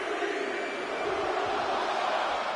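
An arena crowd in a wrestling video game roars in a steady, dense wash while counting along during a Royal Rumble match, a loud unbroken swell of massed voices with no distinct single speaker.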